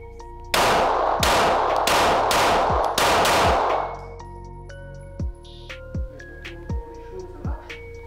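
Six gunshots fired in quick pairs during a double-tap drill at an indoor shooting range, loud and close with sharp reports, followed by a few light metallic clinks of falling brass.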